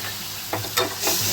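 A ground cumin spice paste sautés in a pan for a fish-roe fritter curry, sizzling briefly with a couple of quick stirring scrapes close by.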